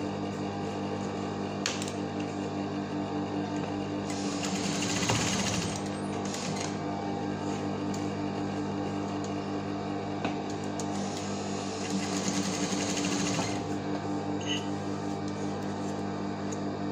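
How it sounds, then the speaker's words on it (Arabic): A home sewing machine stitches fabric for a homemade medical face mask, with a steady, quiet motor hum and two short bursts of faster, louder stitching, heard alone with no talking. "نعاود نخيط الجهة الأخرى."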